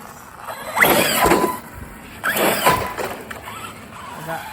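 Hongnor HNR H9901 brushless 1/8 scale RC monster truck revving in two loud, harsh bursts with a whining motor and scrabbling wheels, separated by a quieter gap, recorded outdoors close by.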